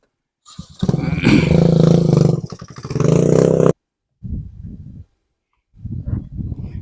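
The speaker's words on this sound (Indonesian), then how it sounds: "Ini ada motor lagi yang mau mencoba mendaki." Motorcycle straining to climb a steep, rough road between districts on Taliabu Island, its engine roaring loudly for several seconds, then cutting out, followed by a couple of shorter revving bursts, near and alone.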